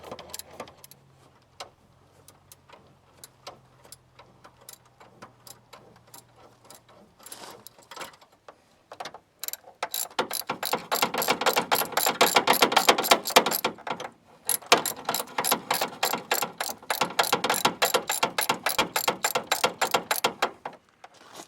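A ratchet backs off a 12 mm bolt to loosen the belt on a 2000 Toyota Avalon alternator, quiet scattered clicks at first, then a long run of rapid, steady ratcheting clicks close by.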